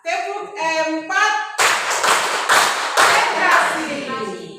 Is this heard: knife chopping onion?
no